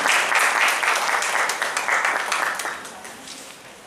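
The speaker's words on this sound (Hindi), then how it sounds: "मैं आपकी जोरदार तालियां चाहूँगा उनकी।" Audience applause at an award function, dense clapping from a crowd that stays loud and steady before tapering slightly toward the end.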